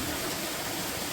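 Waterfall stream flowing beside an outdoor fish-curry cooking spot, a dense, even hiss of running water heard close and unbroken throughout, with no voices.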